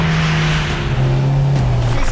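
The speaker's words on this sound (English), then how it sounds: "He's really moving down the track, accelerating like a bullet." The Volvo Iron Knight truck accelerating hard on a world speed record run, a loud, close, continuous engine roar with a steady droning pitch that shifts as it gains speed.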